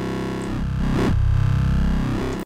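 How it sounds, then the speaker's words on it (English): FM synthesis bass patch, a sine wave frequency-modulated by a 4-bit sine at half its pitch, droning in a loud, gritty, buzzy low tone that shifts timbre in a few pulses before cutting off abruptly. "This is frequency modulating a sine wave with a 4-bit sine wave"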